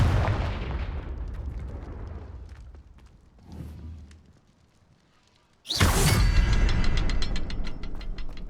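A fiery blast spell in Hogwarts Legacy fires with a whooshing burst, then erupts into a loud, sudden explosion that rumbles on with crackling debris, close and alone.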